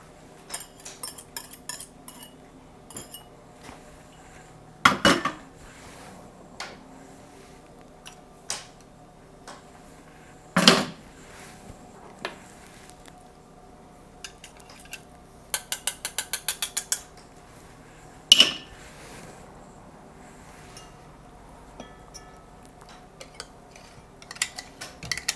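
Wet ingredients for a lemon poppy seed cake are combined in a separate bowl, with sporadic clinks of utensils against dishes and a few sharper metallic clatters spread across a quiet background.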